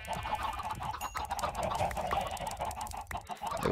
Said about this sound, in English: The fucking clicking of the chickens.